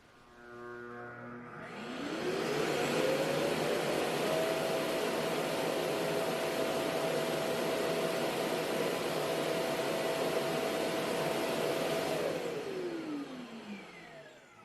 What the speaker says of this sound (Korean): 클린스테이션으로 이동해서 충전과 동시에 먼지통에 있는 먼지를 자동으로 비워주게 됩니다